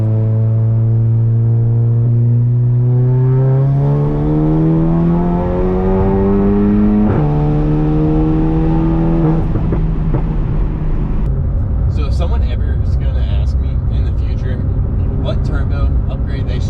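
A VW MK7 GTI with a big turbo and tuned boost-by-gear accelerates hard through the gears, a loud, close engine note climbing steadily in pitch with a quick drop at each shift, and hissing turbo and exhaust bursts later on.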